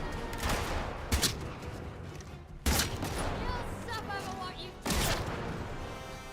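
Gunfire in the video game Atomfall: three sharp, loud shots spaced a couple of seconds apart, each cracking out of a busy, noisy game backdrop and trailing off into the ambient din.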